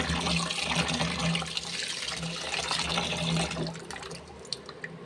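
Water poured over pearl millet (kambu) in a bowl for washing, a steady splashing rush lasting about four seconds that thins out into a few faint drips at the end.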